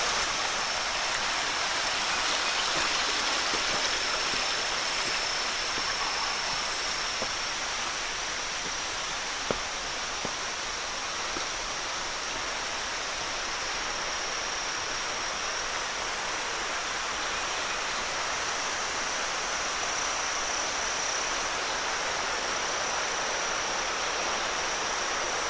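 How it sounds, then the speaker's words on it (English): A small stream runs beside a woodland trail, its water giving a steady, even hiss that continues unchanged for the whole stretch, with a faint click or two and no talking. "A little running water and stuff"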